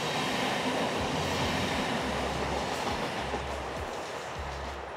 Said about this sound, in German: Und lustigerweise sehen wir hier nur Fahrradwaggons.